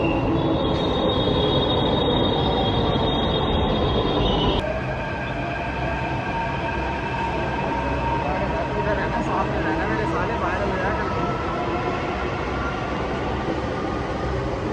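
A Delhi Metro Red Line train rides along with a continuous loud rumble and a high, sustained wheel squeal that drops off partway through, heard from inside the carriage.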